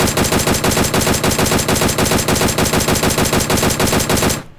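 An automatic gun in PUBG Mobile fires a long, rapid, evenly spaced burst, loud and close, with shots rattling steadily for over four seconds before cutting off abruptly.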